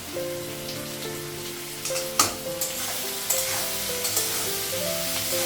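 Potatoes and onions fry in a pan with a steady close sizzle and occasional stirring scrapes and clinks, while faint music plays underneath.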